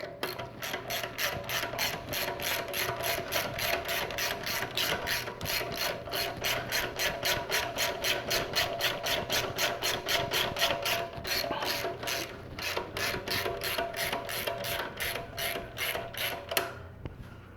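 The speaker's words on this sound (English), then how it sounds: "Once the belt is on, turn the bolt clockwise to tighten the belt." A ratchet tightens the belt tensioner bolt on a Toyota Camry 2.2-litre engine, a long, even run of close, crisp clicks that pauses briefly and then resumes.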